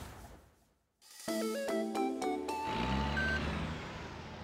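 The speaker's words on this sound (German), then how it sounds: "Wenn ich rückwärts fahre? Piepst da." A Mario Kart Live: Home Circuit toy kart sounds electronic reversing beeps, a run of stepped synthetic tones that starts after a brief pause and continues over a steady background hum.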